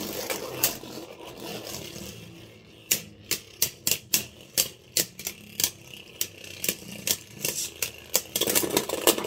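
Beyblade spinning tops, Mirage Fafnir against Kolossal Helios, clashing in a stadium: a rapid series of sharp, loud clicks and scraping impacts at an irregular rhythm, heard up close after a quieter launch.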